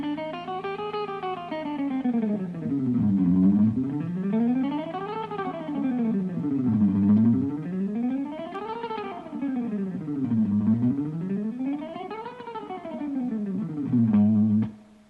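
An electric guitar runs an economy-of-motion exercise in repeating sweeping arpeggios that climb and fall in smooth waves, about one cycle every two seconds, steady and sustained with effects, played alone.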